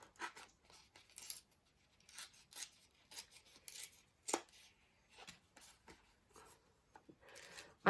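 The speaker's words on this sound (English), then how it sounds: "I think I'll have to do a little bit of fussy cutting here" Paper scraps being fussy cut with scissors for a junk journal, giving a series of short, quiet snips and rustles spaced irregularly, close by with no talking.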